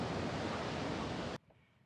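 Ocean surf rolls onto a Gulf Coast beach as a loud, broad wash of waves and wind that cuts off abruptly, leaving quiet background.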